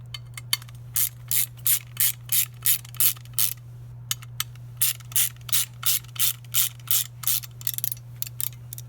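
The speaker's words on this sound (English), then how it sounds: "I'm gonna get my wrench here." A ratchet wrench turns bolts on a Yamaha XSR900 fender assembly, giving quick bursts of clicking in a steady back-and-forth rhythm, close and clear over a constant low hum.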